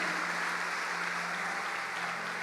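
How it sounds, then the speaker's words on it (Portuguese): Congregation applauding during a Sunday evening church celebration service, a dense, even wash of clapping that stays steady and fairly loud across the whole stretch, with a low hum underneath. "Dê um aplauso a Ele."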